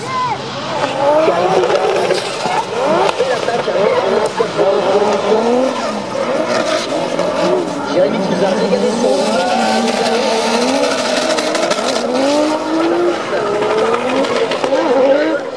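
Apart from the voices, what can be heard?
drift cars battling at Le Castellet drift championship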